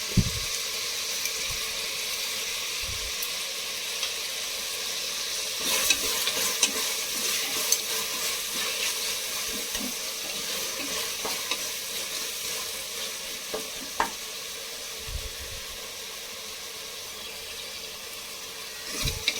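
Tomato bath masala fries steadily in a pan, a continuous close sizzle with occasional scraping stir strokes and clinks, and no voices over it.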